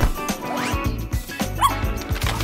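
A puppy yips and barks in quick, high bursts with thumps and clatter around it, close by.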